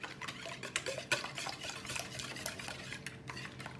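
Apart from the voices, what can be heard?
mixing ingredients for a breakfast egg hash in a pan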